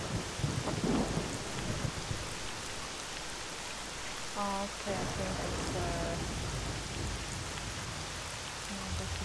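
Steady rain with rumbling thunder in a video game fills the scene while a voice speaks briefly over it.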